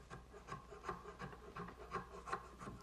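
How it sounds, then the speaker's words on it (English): A small hand rasp files tight spots on a woodworking piece in a steady back-and-forth rhythm, about two to three rough scraping strokes per second, close and alone. "I just use this little rasp"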